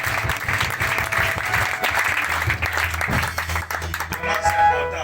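A church congregation breaks into sustained applause, dense rhythmic clapping mixed with crowd voices and some cheering, loud and close throughout.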